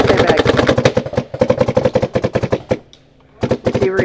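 A Luxe TM40 paintball marker with an Apex barrel fires rapid bursts of sharp, close pops on an outdoor paintball field, pauses briefly, then fires again.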